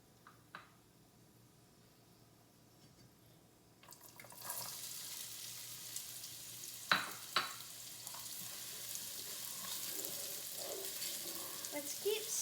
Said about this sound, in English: I've been frying the ingredients for 2 to 3 minutes, and now the onions are translucent